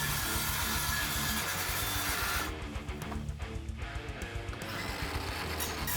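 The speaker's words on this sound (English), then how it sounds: "Cutting on a wall like this with a circular saw is extremely dangerous." A circular saw cuts through a shed wall with a loud, continuous whine and rough grinding close by. The tone shifts partway through as the blade works through the material, and no one speaks.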